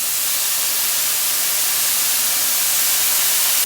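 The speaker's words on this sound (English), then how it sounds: "Broccoli slaw in the pan." Broccoli slaw cooking in a hot pan with sugar-free orange ginger sauce, a steady loud sizzling hiss that holds evenly throughout and cuts off right at the end.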